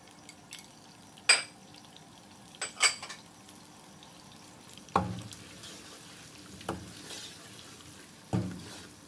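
Chopped medium onion goes into a frying pan for an aloo baingan sabzi and is mixed in, with a soft sizzle under a handful of sharp spoon-on-pan clinks and scrapes spread across the stretch.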